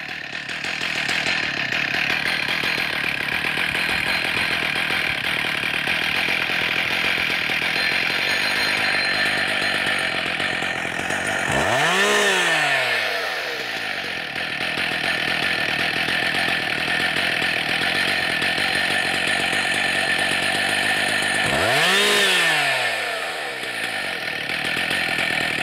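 A Husqvarna 268XP/272XP chainsaw engine idles loudly and steadily up close, with two brief throttle blips that rise and fall in pitch. No one speaks.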